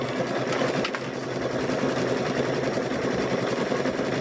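A sewing machine runs in one continuous, close, steady hum while sewing quilt squares.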